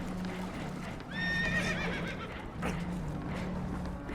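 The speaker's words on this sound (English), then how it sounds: "Horses are spooked, and we're taking on water." Spooked horses whinny loudly on a damaged boat taking on water in Red Dead Redemption 2, one long rising neigh standing out over rushing water and hoof clatter, with no voices.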